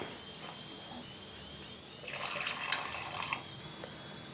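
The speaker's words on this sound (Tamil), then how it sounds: "இப்போ தேவையான அளவுக்கு தண்ணியும் நம்ம சேர்த்துக்கலாம்." Water pours into a pot of bitter gourd curry with a splashing, gurgling rush that picks up midway, quiet and close.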